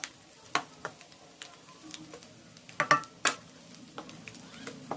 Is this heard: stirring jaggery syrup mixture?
yes